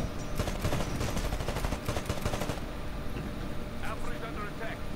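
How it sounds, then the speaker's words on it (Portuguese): Gunfire in Titanfall: dense bursts of rapid automatic shots for the first half, then sparser, more distant shots over the game's background noise. "Tem alguém atirando ali."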